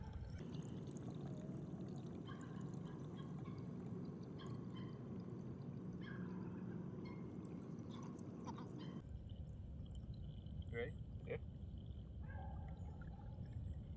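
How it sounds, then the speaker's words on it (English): Water pours and trickles steadily through a HydroBlu pressurized jerry can filter, a continuous liquid rush with small drips, and brief talk near the end. "52 seconds for 1 liter of water."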